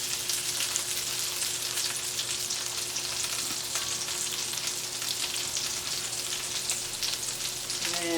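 Shrimp frying in a pan for a shrimp parmesan dish, a loud steady close-up sizzle running throughout, with faint knocks as the pieces are flipped and no voices.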